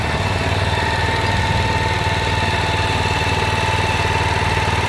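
A greenkeeping mower's engine runs steadily at a close, loud idle, giving a constant even drone with no change in pitch or load and no voices over it.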